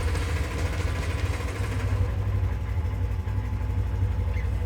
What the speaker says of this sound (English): Now we're going to start the engine and let it idle for about 15 seconds